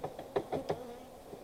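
A buzzing drone of swarming Italian honey bees during hive installation hums close by, with a few soft knocks and taps scattered through it.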